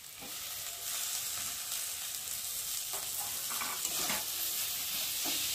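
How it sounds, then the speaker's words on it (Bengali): Chopped tomato fries with spice paste in a pan, giving a steady close sizzle with occasional scraping stirs, heard alone with no talk. "ভালোভাবে কষিয়ে নেব, যাতে টমেটোটা গলে যায়"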